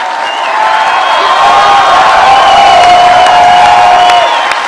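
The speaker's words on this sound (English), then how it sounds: "Check out how much more excited the crowd is to see Rand's parents than they are to see him" Loud crowd cheering and applause at a Rand Paul political rally as his parents are thanked, a sustained roar of whoops and clapping throughout.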